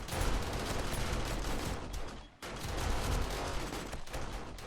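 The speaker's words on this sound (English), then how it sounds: "That's a bit loud with all them turrets" Automatic turrets firing during horde night in 7 Days to Die, a dense continuous fusillade of rapid gunshots with a brief gap before the barrage resumes, loud and close.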